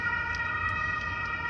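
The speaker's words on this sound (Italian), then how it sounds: "Guarda, l'ambulanza sotto." An ambulance siren wails steadily in the street below, a sustained tonal blare in the distance over faint street noise.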